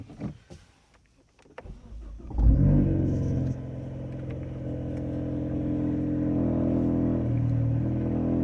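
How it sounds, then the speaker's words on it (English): A few clicks and a starter whir, then a car engine catches with a brief rev and settles into a steady, low idle. "So I'm going to start the car now."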